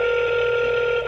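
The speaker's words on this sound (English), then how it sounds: "It's ringing." An outgoing phone call rings through the earpiece, a steady electronic ringback tone that holds unbroken for about a second, clear and close, with no talking over it.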